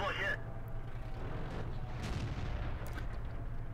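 Tank gun fire from an M10 Wolverine in World of Tanks, a loud boom at the start that decays into a low, rumbling battlefield ambience with a faint engine drone running throughout.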